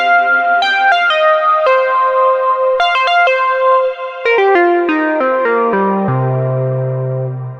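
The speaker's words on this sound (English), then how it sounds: "That's the sound of the oscillators, really not driving the filter too hard." A Moog Source synthesizer plays a descending run of clean, bright oscillator notes through a lightly driven filter, each tone distinct and sustained, ending on a long low note.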